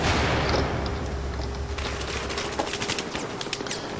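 Rapid bursts of automatic gunfire and scattered shots crackle through an organized combat match in a video game, loud and continuous over a low rumble, with denser staccato volleys in the second half.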